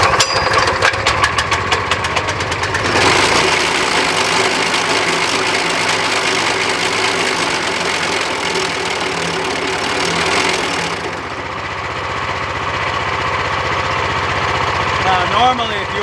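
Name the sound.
15HP manual trencher engine running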